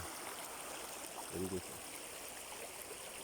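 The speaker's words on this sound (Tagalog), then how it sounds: "Galing yan sa bukid, tubig na to." Water from the fields runs in a wide stream at a crossing with no bridge, a steady rushing wash that fills the whole clip, with a brief spoken word partway through.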